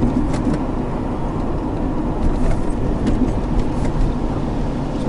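A Jeep with a manual transmission being driven, its engine and road noise a steady, loud drone throughout as the driver rev-matches to downshift without the clutch.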